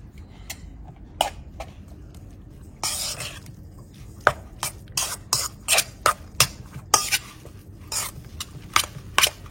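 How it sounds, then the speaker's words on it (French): Utensil scraping and clinking while samosa filling with salt is stirred in a bowl, irregular sharp taps and scrapes coming in quick clusters up close, with occasional throat clearing. "je viens rajouter une bonne pincée de sel. Je vais mélanger tout cela."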